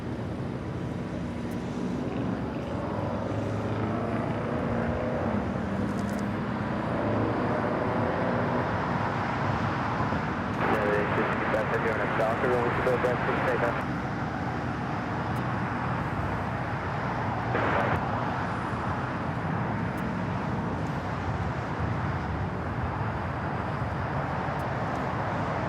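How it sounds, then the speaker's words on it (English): A Singapore Airlines airliner takes off from Los Angeles International Airport, its engine roar a steady, moderately distant rush with a swelling burst of noise partway through. "Singapore taking off on the north side."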